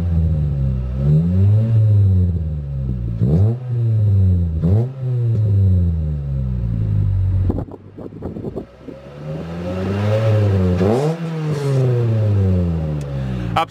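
A 2005 Ford Fiesta ST engine with a stainless steel exhaust revs repeatedly, rising and falling in loud throaty bursts with a short pause midway, close and continuous.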